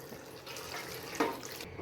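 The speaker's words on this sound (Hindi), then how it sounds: "छानने के बाद मैं नूडल्स को ठंडे पानी से धो लेती हूँ।" Boiled noodles rinsed under cold running tap water in a kitchen sink, a steady close splashing hiss with a slight surge partway through.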